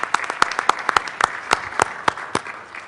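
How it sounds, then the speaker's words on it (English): A small audience at a health data conference gives a round of applause, with distinct separate claps, fairly sparse and uneven, heard close and alone, with no talk over them. "if we could do another round of applause for Wayne"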